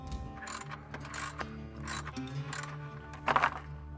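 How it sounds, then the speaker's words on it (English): Ratchet mechanism clicking in repeated bursts while a 10mm ratchet loosens fasteners on a loose air scoop of a Mercedes-Benz, close and fairly loud, with no talking. "I need a 10mm ratchet. I'm just gonna take it off."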